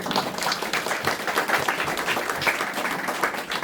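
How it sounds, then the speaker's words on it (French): Applause from a church assembly audience at a graduation service, a dense, steady patter of many hands clapping together for several seconds without a break. "Nous applaudissons les Seigneurs pour ça."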